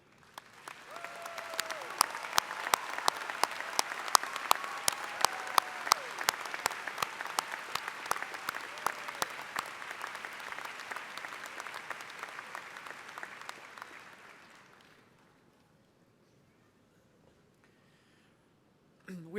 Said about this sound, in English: please stand and receive our applause and heartfelt appreciation for your service to our great nation